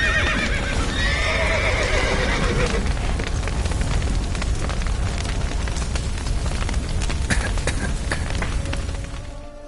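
In a video game (The Witcher 3: Wild Hunt), horses whinny and neigh repeatedly over a dense, roaring crackle of fire, with hooves clattering and heavy commotion throughout.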